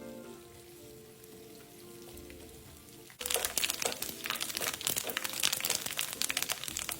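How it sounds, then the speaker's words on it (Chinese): Small dried anchovies deep-frying in hot oil over medium heat; after a few seconds of quiet kitchen noise, a loud, dense crackling sizzle bursts in abruptly and keeps going with sharp pops. "油热后倒入备好的江鱼仔，中火一直油炸至金黄色"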